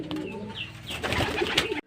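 Pet pigeons coo in soft, repeated throbbing calls on an afternoon before feeding, close to the microphone, with a fuller burst of cooing near the end before it cuts off.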